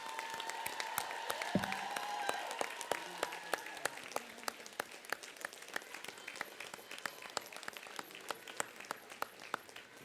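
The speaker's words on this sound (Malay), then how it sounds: "Berikan tepukan gemuruh kepada beliau." Applause from a crowd at an UMNO political gathering, heard faintly and at a distance, with scattered individual claps standing out sharply over a thin wash of crowd noise.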